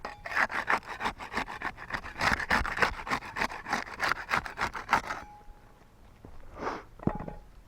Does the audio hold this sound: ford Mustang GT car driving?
no